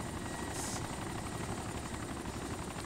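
A helicopter flies in the video game ArmA 2 Wasteland, its rotor making a loud, continuous, close-up drone, with no voices.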